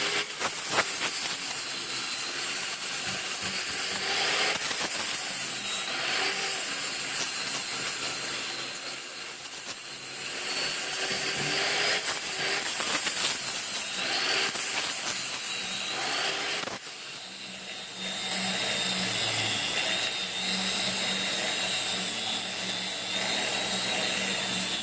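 Grinder working on the metal of a saw blade being made into a knife: a steady high hiss and whine of abrasive on steel, running continuously and fairly loud, with shifts in pitch as pressure changes.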